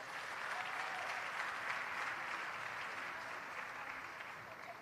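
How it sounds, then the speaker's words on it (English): A large conference audience claps in sustained, dense applause at moderate distance, holding steady before tapering slightly toward the end. "Let's give them a big round of applause."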